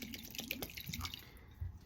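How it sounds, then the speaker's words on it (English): Water runs into a small glass bottle at a florist's worktable, a quiet, close trickle with light drips and tap-like splashing. "oh, I need to fill this with water."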